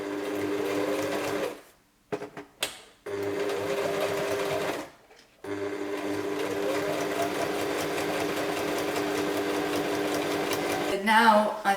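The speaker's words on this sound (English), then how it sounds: "I'm going to use a sewing machine to stitch them together" Sewing machine stitching elastic and velcro straps for a Stormtrooper armour kit, running in steady whirring bursts with two brief pauses and a short change in pitch near the end, close and fairly loud.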